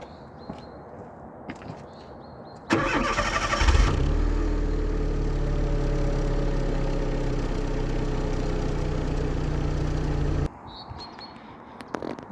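A Fiat Punto Mk2 (188) car engine cranks briefly and catches, then settles into a steady, loud idle for several seconds before cutting off abruptly.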